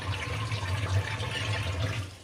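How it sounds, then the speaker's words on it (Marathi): Tap water runs steadily over a blackened cast-iron griddle being rinsed clean in a kitchen sink, a continuous close splashing rush with no talking. "आता नळाखाली नेते मी आणि धुवून काढते स्वच्छ"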